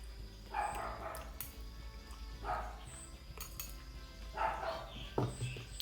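A dog barks a few times in the background, a short bark at each burst spaced across the moment, mixed with light clinks of dishes and cutlery during a meal.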